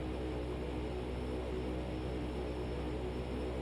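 Steady, constant engine drone of a Thranda Quest Kodiak G1000 single-engine turboprop in a flight simulator, a smooth unbroken hum at low level with no voices.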